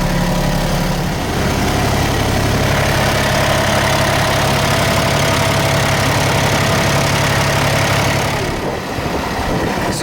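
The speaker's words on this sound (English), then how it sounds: "definitely time to see if the engine can go against this wind." Sailboat engine running steadily while motoring into strong wind, a loud continuous low drone and rumble with a faint thrum, close and unbroken, with wind noise over it and no talk.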